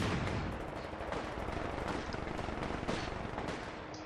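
Machine gun fire in Company of Heroes, loud rapid bursts of gunshots running continuously with crackling reports and battlefield noise, no voices.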